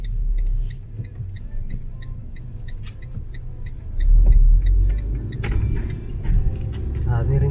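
Cars move through the parking area of the Scalo Milano outlet shopping center, a close rumble of engines that swells as a vehicle passes, with faint talk in the background.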